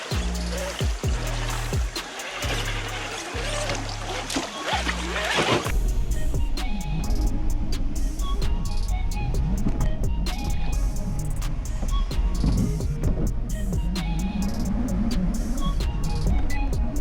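A Traxxas TRX-4 High Trail Edition RC crawler drives and climbs a hill outdoors, its small electric motor whining and tires scrabbling over dirt and rocks, close and fairly loud, with a low rumbling start and crunching terrain throughout.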